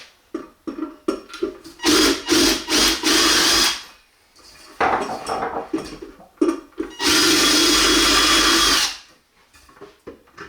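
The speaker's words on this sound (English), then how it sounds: "once we can drill this out completely" Power drill boring into a wall-mounted Aquapol damp-proofing device, two long loud whining bursts separated by short stop-start pulses and brief pauses.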